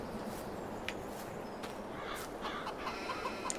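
Chickens cluck softly in Farming Simulator 22, scattered short calls from several birds over a steady noisy ambient background on a farm.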